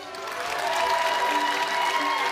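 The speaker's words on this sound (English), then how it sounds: "one final big round of applause for Chef Jet and Chef Ashley" A studio audience applauds the chefs at a televised Christmas cooking tournament, steady loud clapping mixed with crowd cheering that swells slightly and holds throughout.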